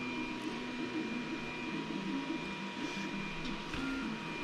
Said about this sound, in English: I've got a 3D printer going in the background. It's probably loud.